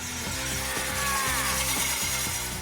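A power drill grinding into a pane of painted glass, a harsh, continuous rasping whine with a steady pulsing rhythm, loud and close, heard alone without speech.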